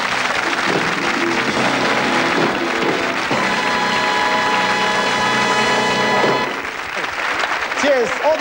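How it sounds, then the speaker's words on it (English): A studio audience at a 1984 game show applauds loudly and steadily for several seconds, with a music sting over it before the clapping fades and someone speaks. "Give them a round of applause."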